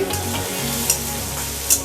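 Oil sizzles steadily as onions fry in a pan with small pieces of raw mango, with a couple of sharp clinks from stirring; no voices.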